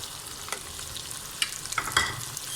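Boiled chana dal goes into bitter gourd frying in a pan and gets stirred, giving a steady close sizzle with a few spoon scrapes and clinks on top and no talk.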